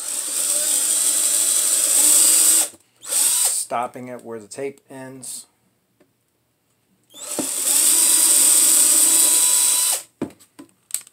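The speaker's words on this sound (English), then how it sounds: "So I'm just going to drill right through," A power drill whirs loudly through a wooden kitchen drawer in two long bursts, with a person talking briefly in the pause between them.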